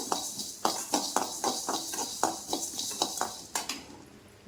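Coriander seeds and cumin dry roasting in a pan for goat intestine curry, with a steady run of clinking, scraping stirs against the metal over a soft hiss, close and fairly loud.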